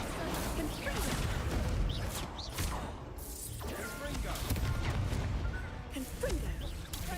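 Incendio fire spell cast in a Harry Potter video game, with swooshing whooshes and crashing impacts layered over a dense, continuous bed of game sound effects.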